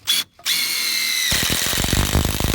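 A power drill drives long batten screws into timber while building a cabin kit. After a short whir and a pause, the motor runs loud and close, with a rough, grinding load as the screw bites into the wood.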